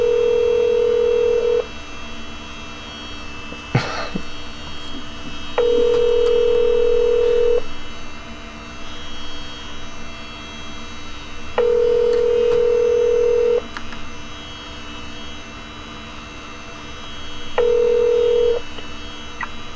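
Phone ringback tone while a call is dialing, a steady beep pattern repeating four times with gaps between, loud and close with a brief click between the first two rings.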